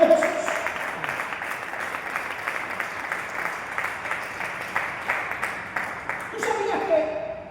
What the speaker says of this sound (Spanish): ¿Alguien aplaude el nombre de Jesús?